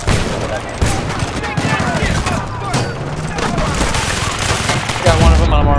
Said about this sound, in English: Oh shoot, getting shot from the behind.